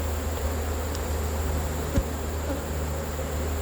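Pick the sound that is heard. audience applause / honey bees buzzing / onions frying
honey bees buzzing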